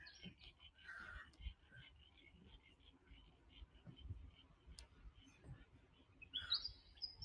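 Birds chirp and call outdoors near wetlands by an old blast furnace site, scattered short tweets over a quiet, rustling background, fairly faint, with one brighter call near the end and a soft voice at times.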